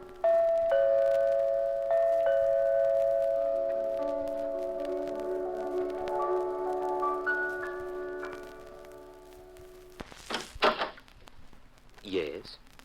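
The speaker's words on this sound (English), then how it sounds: "You stick your finger on the doorbell. But all you get is piano music." A doorbell in a radio drama that plays a tinkling piano melody instead of a ring, the notes repeating for about ten seconds, followed by brief knocking or door sounds near the end.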